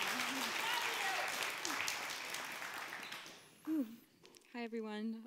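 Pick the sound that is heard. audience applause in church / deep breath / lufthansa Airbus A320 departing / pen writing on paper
audience applause in church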